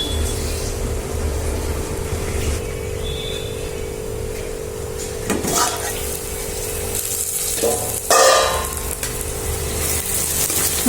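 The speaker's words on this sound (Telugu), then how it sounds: "బాగా ఫ్రై అయ్యేదాకా వేయించుకోవాలి." Onions frying with eggs in a pan, a steady sizzle running throughout with a few brief stirring scrapes and clatters, close and fairly loud, no talking.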